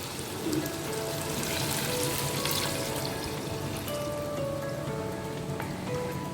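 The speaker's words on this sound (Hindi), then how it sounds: "तो अब मैं इसमें 3 गिलास पानी डाल दूँगी।" Three glasses of water are poured into a cooking pot for chicken pulao, giving a continuous, even splashing hiss that runs unbroken for several seconds without speech.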